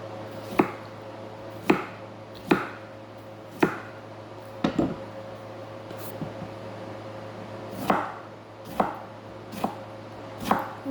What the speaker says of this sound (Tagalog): Ngayon, maghihiwa ako ng cucumber.